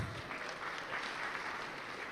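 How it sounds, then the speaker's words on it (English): Applause from a startup pitch day crowd, dense steady clapping that carries evenly throughout, moderately loud with no voices standing out. "A round of applause for our winners."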